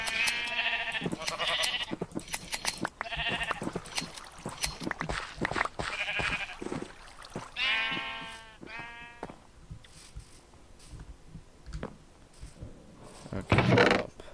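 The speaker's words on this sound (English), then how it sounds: "might as well shear the sheep" Repeated wavering bleats from video game sheep being sheared in Minecraft's Create mod, coming in several separate calls spaced through the stretch among light clicking and game sounds.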